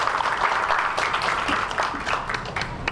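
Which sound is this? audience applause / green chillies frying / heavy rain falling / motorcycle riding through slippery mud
audience applause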